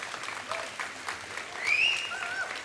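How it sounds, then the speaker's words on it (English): Audience applause for the host team at an architecture festival in Calicut, a steady wash of clapping from a crowd with brief whistles rising over it, moderately loud. "Huge round of applause to you guys."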